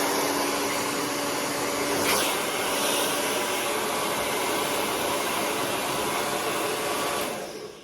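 A hair dryer blows hair dry in a steady, loud, breathy rush that holds evenly for about seven seconds before cutting out abruptly near the end, with no talking.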